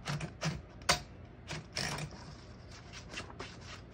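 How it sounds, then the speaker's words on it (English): Paper being guided into the platen of a 1961 Smith-Corona Secretarial desktop typewriter gives a few short, close mechanical clicks and scrapes spread over several seconds, fairly quiet with brief pauses between them. "It guides the paper into the platen."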